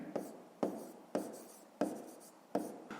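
A pen writes in a school notebook during a fifth-grade maths exercise, making five quiet, separate scratching strokes at an uneven pace, each one starting sharply and then fading.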